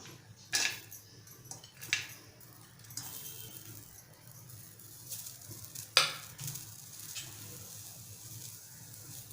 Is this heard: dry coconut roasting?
yes